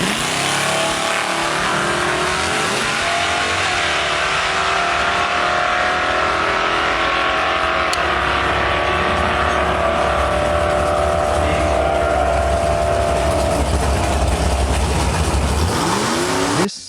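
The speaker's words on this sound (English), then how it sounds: "This 63 Tempest is a rebuilt street-ready gasser with a 421 small block installed in 2025" A 1963 Pontiac Tempest gasser with a 421 small block revs loudly and steadily up close, its engine note rising and holding in a continuous roar with no one talking over it.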